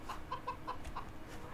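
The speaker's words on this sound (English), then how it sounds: "So here are our chickens." Chickens in Farming Simulator 2015 cluck softly in a short series of about five quick clucks, faint against a low background hum.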